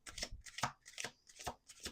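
A deck of cards is shuffled in quick bursts, about five crisp riffling flutters in two seconds, close and fairly quiet.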